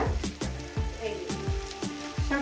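Eggplant sizzling and frying in a pan over medium gas for a Bengali chorchori with mourala fish, a steady close crackle broken by regular stirring scrapes.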